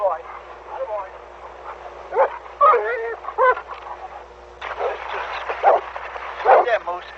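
A dog named Moose, left behind on shore at a lake in a national park, yips and whines in short bursts, mixed in among nearby voices of people talking.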